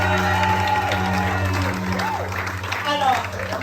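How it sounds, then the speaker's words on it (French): Church congregation applauding and acclaiming the Lord, a steady wash of clapping and cheering voices with whoops, loud and continuous throughout. "Le peuple de Dieu, tu vas acclamer le Seigneur pour toi-même ta propre vie."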